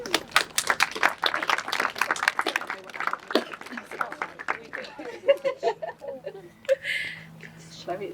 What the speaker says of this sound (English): Well done, you give Reese a clap.